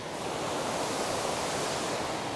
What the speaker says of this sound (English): I'm finishing off at Clashnessie waterfall.